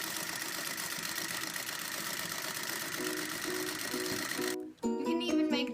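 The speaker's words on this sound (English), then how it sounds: "You can even make this beautiful thing with my Singer sewing machine." A Singer sewing machine whirs steadily at close range before cutting out abruptly, after which a different, tonal sound takes over.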